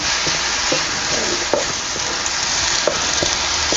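Spring onion greens fry in a pan with a loud, steady, close hiss of sizzling, broken by a few soft scrapes and taps of a spatula stirring, and no voices.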